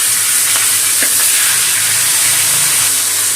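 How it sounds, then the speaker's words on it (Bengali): Fish head frying in mustard oil with salt and turmeric over a lowered gas flame, giving a loud, continuous, close-up hiss and sizzle with a few faint pops. "এদিকে মাছের মাথাটা ভাজা হতে থাক"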